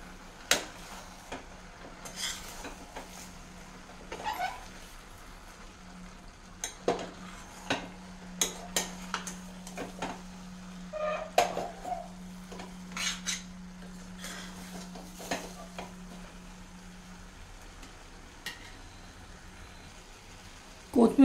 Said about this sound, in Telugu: మిక్స్ చేద్దాం.